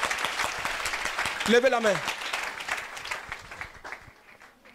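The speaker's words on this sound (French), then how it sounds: "Clap for the Lord." A church congregation claps together for the Lord during worship, dense applause running under a preacher's voice, with people speaking throughout and the clapping thinning toward the end.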